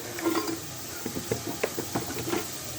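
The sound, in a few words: fish being added to a pan and fried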